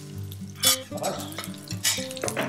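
Curry leaves hit hot oil with mustard seeds and turmeric in a pan while cooking poha from leftover rotis, giving bursts of loud crackling sizzle and stirring clatter, with a brief spoken word.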